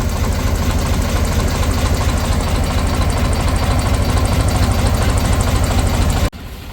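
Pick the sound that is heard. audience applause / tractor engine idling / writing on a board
tractor engine idling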